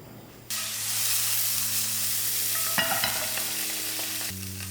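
Crumpet batter meets melted butter in a pan with a sudden burst of sizzling, then a steady, close frying hiss continues, broken by a brief utensil clatter midway, with no talking.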